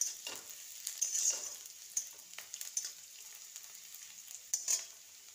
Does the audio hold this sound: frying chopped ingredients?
yes